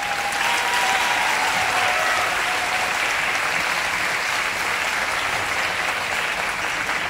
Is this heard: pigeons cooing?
no